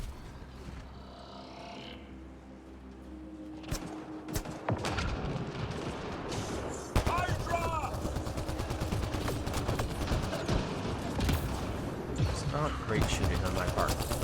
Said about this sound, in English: Great shooting on my part.